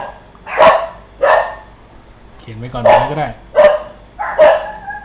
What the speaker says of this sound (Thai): หมามัน เห่าอะไร